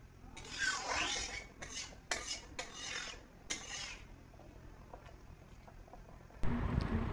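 A spoon stirs fish curry with sesame and eggplant in a metal pot, giving several close, scraping strokes against the pot, followed by a quieter pause and a louder clatter at the end.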